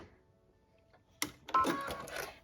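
A sewing machine back stitching a pillow seam, starting after a quiet pause with a sharp mechanical clack, then a short, close whirring run of stitches.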